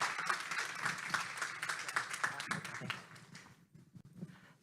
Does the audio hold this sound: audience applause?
yes